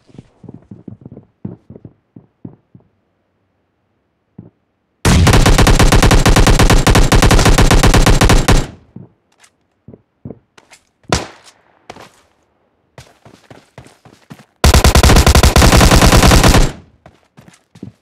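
Gunfire from S12K and Thompson guns in a battle royale video game: scattered light clicks and footsteps, then a long loud burst of rapid automatic fire, isolated shots, and a second sustained burst near the end.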